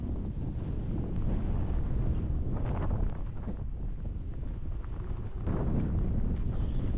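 Strong wind gusts into the microphone near Dettifoss waterfall in northeast Iceland's Vatnajökull National Park, a loud, constant, buffeting rumble with a few sharp pops.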